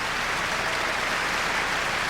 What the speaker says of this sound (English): Sarah Chang recalled by the audience with Kurt Masur applauding vigorously.